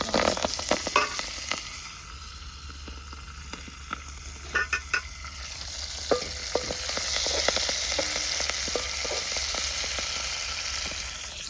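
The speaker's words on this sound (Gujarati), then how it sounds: "તો ફટાફટ લસણ નાખી દઈએ. પછી નાખીશું મેથી. મેથીનો અવાજ કરતા" Garlic and fenugreek seeds fry in hot oil with a steady sizzling hiss broken by sharp crackles and pops, loudest in the first seconds and continuing close by without any talk.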